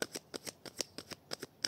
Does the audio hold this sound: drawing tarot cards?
yes